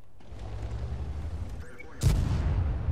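A heavy tank gun fires in the World of Tanks video game, with one sudden loud boom late in the clip over a low engine rumble and faint talk.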